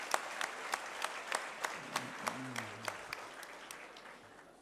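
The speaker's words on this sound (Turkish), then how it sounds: "bu kutlu şeyde alkışlamanızı istiyorum" Audience applause at a Galatasaray gala evening: steady crackling clapping with regular sharp claps roughly three times a second, a faint voice briefly rising beneath it midway.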